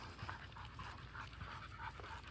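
Several dogs panting on a park trail walk, quick, faint, steady breaths up close with a small whimper, no talking.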